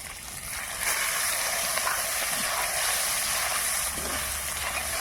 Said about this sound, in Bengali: এই তেলেই পনির ভেজে নেব